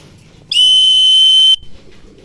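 A single loud, clear electronic beep or whistle lasting about one second, clocking a racing pigeon's arrival at its home loft during a 213 km derby race; faint background noise before and after.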